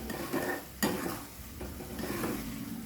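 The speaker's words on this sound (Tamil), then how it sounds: "நல்லா இந்த சட்னிலேருந்து எண்ணெய் பிரிஞ்சு வர்ற வரைக்கும் நம்ம நல்லா கொதிக்க வைக்கணும்." Schezwan chutney bubbles and sizzles in a pan while a spoon stirs and scrapes against the metal, close and steady with a few sharper clinks.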